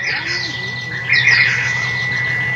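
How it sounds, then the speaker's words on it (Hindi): Many birds call outdoors beside the Ganges river. Repeated squawks and chirps overlap, growing louder and busier midway over a steady background, with no talking. "बहुत से पक्षी चहचहा रहे हैं"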